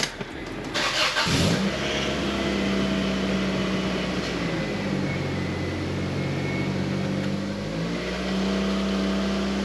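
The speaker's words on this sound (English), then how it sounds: "I'm about to start the car so you can witness like how it is surging" A 2002 Honda Accord starts with a brief crank and catches, then idles loudly nearby, its engine note dipping and rising in a slow, uneven surge before climbing again near the end.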